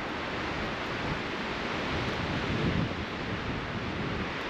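Strong, hard wind roars steadily against the microphone outdoors, a dense gusting rush with no voices, while suction-cup awning mounts are being tested.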